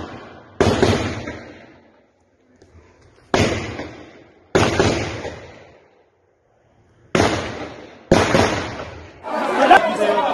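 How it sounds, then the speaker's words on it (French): Loud bursts of gunfire go off in a street in Haiti, coming in sharp clustered volleys with decaying echoes and gaps of quiet between them. "Vous avez entendu les nombreux coups de feu?"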